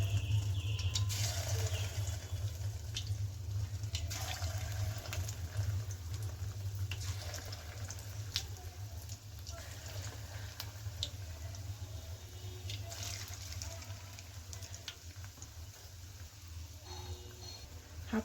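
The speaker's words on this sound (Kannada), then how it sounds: "ಹಾಕ್ಕೊಂಡ್ಮೇಲೆ ಮೀಡಿಯಮ್ ಫ್ಲೇಮಲ್ಲಿ ಇದನ್ನು ಚೆನ್ನಾಗಿ ಫ್ರೈ ಮಾಡಿ ತಗೋಬೇಕಾಗತ್ತೆ." Spoonfuls of batter for evening snacks deep frying in hot oil on a medium flame, a soft steady bubbling crackle with scattered sharper pops and drips, close but quiet.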